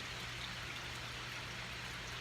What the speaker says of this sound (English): We're getting ubers of rain due to Hurricane Harvey, the tropical storm hitting Texas.